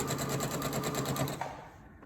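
A sewing machine stitches fabric in a fast, rhythmic mechanical chatter, close and clear, then slows and stops after about a second and a half, followed by a faint click.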